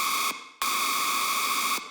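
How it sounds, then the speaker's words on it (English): A detuned saw synth lead layered with white noise chorus, bright buzzing sustained notes with a hissy edge, played in two loud held bursts separated by a short gap, each ending in a quick fade. "You got some white noise chorus to kind of add crunch"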